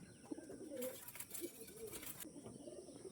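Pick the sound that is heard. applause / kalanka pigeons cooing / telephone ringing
kalanka pigeons cooing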